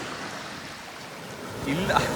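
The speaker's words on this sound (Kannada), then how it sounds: "ಇಲ್ಲಿ ಹರಿತಾ ಇರೋದು ಬೆಟ್ಟ ಗುಡ್ಡಗಳಿಂದ ಬರ್ತಾ ಇರುವಂತಹ ಸಿಹಿ ನೀರು" A freshwater stream flows down from the hills to meet the sea near a Goa beach, making a steady, soft rushing wash of water, with a voice starting near the end.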